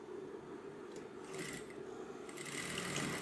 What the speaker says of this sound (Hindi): इस तरीके से तिरछा टाँका लगा देना है।